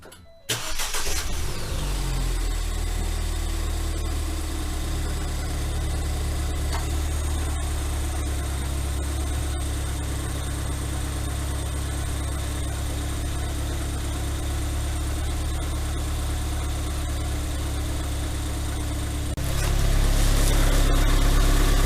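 A car engine cranks and catches, then settles into a steady idle for nearly twenty seconds before the revs lift near the end, recorded up close during a brake check with no talking.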